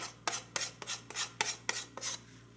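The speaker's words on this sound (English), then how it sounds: "and just slowly take off the old lacquer" Old lacquer finish is rubbed off a dovetail saw in seven rhythmic scraping strokes, each a short rasping swipe, close and fairly quiet over a low steady hum.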